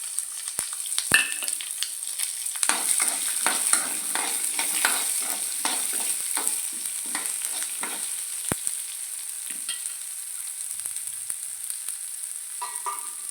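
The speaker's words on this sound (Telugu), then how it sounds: "తాలింపు చక్కగా వేగిపోయాక ఉల్లి ముక్కలు చిన్న ముక్కలుగా కట్ చేసుకొని వేసుకోవాలి" Small chopped onions are tossed into a hot tempering for Rayalaseema-style uggani, giving a bright, steady sizzle with frequent scraping stirs and ladle knocks against the pan that thin out toward the end.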